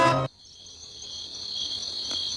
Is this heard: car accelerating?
no